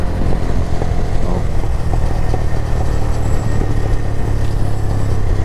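A Daelim Daystar 125 motorcycle engine runs nearby with a loud, rumbling exhaust, its uneven throbbing broken by scattered popping crackles.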